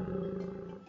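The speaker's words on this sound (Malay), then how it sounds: "Itu bunyi singa." A lion roaring: a single short, loud, deep throaty roar that tails off quickly, heard alone without talk.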